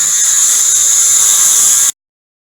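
Dremel rotary tool cutting a metal worm shaft held in a vise: a loud, steady high-pitched whine that runs close for about two seconds and then cuts off abruptly.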